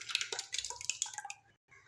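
Sour yogurt being poured into a blender jug, a brief, soft sequence of wet plops and squelches, close and faint, with no talking.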